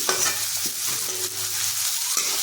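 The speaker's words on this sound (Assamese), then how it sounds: "এয়া ধুনীয়াকৈ ভাজি ভাজি অকণ ৰঙচুৱা হ'বলৈ দিম" Onions with bay leaf and dried red chilli sizzling in hot oil in a wok, a steady close frying hiss with stirring scrapes over it, continuous throughout.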